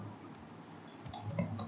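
A few soft, close keyboard key clicks from a command being typed on a computer, sounding late over a quiet room.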